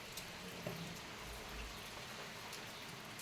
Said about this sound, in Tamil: இன்னுமே மழை நிற்க மாட்டேங்குது